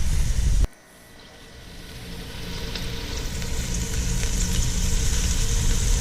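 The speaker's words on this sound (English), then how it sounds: "A lot of fat's coming out of the bacon" Bacon frying in a pan, its fat rendering out, heard as a loud burst that cuts off sharply and gives way to a steady, crackling sizzle with scattered pops that grows louder over several seconds.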